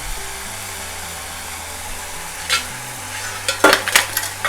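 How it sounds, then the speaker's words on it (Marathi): Ginger garlic paste sautéing in hot oil for a Konkan clam chutney, giving a steady low sizzle with a few sharp stirring scrapes near the end, close by and with no talking. "तेलावर चांगली परतून घेऊया"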